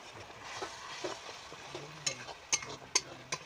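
Food is sautéed with salt in a pan, heard as a soft sizzle under quiet scraping and stirring, with a few sharper taps of the spoon against the pan near the end, close and fairly faint.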